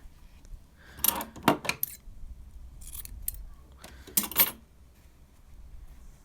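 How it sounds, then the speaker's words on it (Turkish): Close scissor snips come in two quick clusters, sharp metallic clips trimming the ends of a ribbon bow against a quiet room. "fazla ucunu kesiyorum bir makas yardımıyla"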